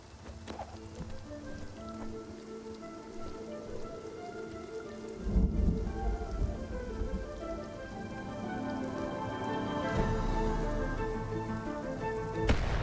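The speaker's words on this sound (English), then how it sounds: "A little bit of rain and thunder." Rain and thunder in the video game Spiritfarer: a steady wash of falling rain with deep rumbling thunder rolling in and swelling partway through, continuous and fairly loud, with no talking.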